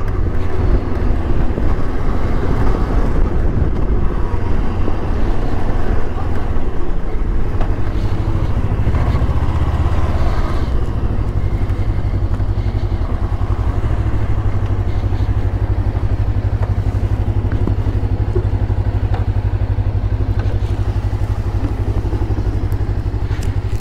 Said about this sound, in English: Good adventure bike.